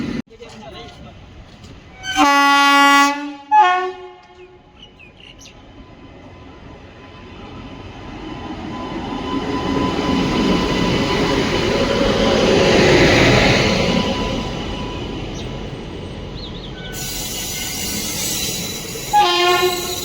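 A train horn blares twice, then the Bagalkot–Mysore Basava Express with an ICF coach rake passes, rumbling and roaring, swelling and fading, before another horn blast at the end.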